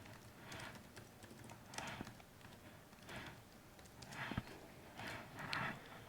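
Someone types a formula on a computer keyboard, giving faint, quick bursts of key clicks in short uneven clusters against a quiet background, with no talk.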